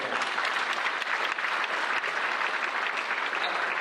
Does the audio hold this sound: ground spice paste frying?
no